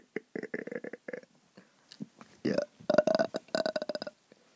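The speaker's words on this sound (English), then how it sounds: "are you ready to do a burping contest?" Loud, gurgling burps trade back and forth in a burping contest between Sonic and Tails, starting as a quick run of short belches and building into longer, rumbling ones near the end.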